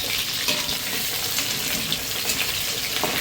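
Potatoes frying in hot oil for a chicken curry, a continuous close sizzle and hiss that holds fairly steady, with a few small crackles and pops rising out of it.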